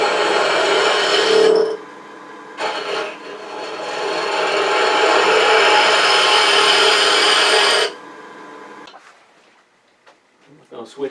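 On a wood lathe, a hunter tool cuts into a spinning fluted wooden pot with loud, close scraping bursts: a short cut, a brief pause, then a long sustained rasp that stops abruptly, leaving quiet handling noises and a voice.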